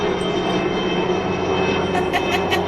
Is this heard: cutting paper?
no